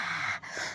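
A voice imitating loud, scary snoring, a harsh raspy breathy rumble sustained for under a second with a brief dip near the end, close and fairly loud.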